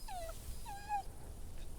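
A dog whimpers in The Walking Dead video game, two drawn-out whining cries separated by a short pause, fairly faint over a low background rumble.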